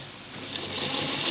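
A sewing machine stitching a kurta sleeve makes a short, steady mechanical whir that builds slightly in loudness, heard close up and on its own.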